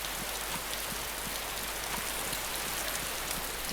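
Rain falls steadily in the DayZ survival game, a continuous, even hiss of drops spread across the whole clip, with no voices.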